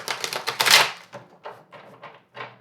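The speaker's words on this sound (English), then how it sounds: "Let me just do a shuffle this way." Quick bursts of tarot cards being shuffled, a dense crackling riffle followed by several shorter flurries with brief pauses between them.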